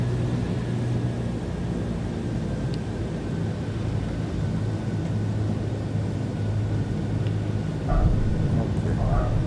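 Steady engine drone of a Douglas DC-3 Dakota in the Microsoft Flight Simulator 2020 game, its twin radial engines throttled back to idle, a continuous even hum with a faint tonal whine running throughout.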